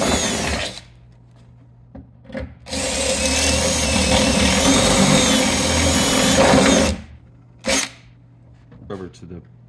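A power drill boring holes in a BMW E46 hood for hood pins, with a steady close whine held for about four seconds and several short bursts before and after. There is no talking.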